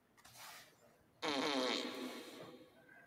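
A loud, drawn-out fart erupts after a quieter lead-in, buzzing and rasping for about two seconds before trailing off, close to the microphone with no talking.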